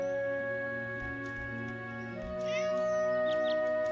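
A cat meows a few times in short, fairly close calls over a steady electronic hum from a game or stream setup, with no talking.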